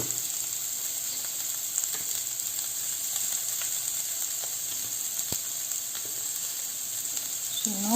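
Onions fry in a pan for paneer pasta, giving a steady, close sizzling hiss with a few faint stirring clicks and a brief scrape near the end.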